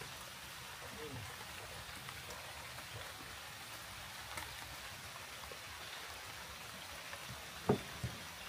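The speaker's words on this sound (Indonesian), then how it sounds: "Seharian kita kena hujan, Bang Anton." Steady rain hisses softly and evenly, a faint continuous patter with a couple of brief louder knocks near the end.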